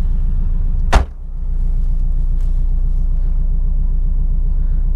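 A 1957 Porsche 356 Speedster replica engine idling close by: a steady, even low rumble with a single sharp click near the start, no voices over it.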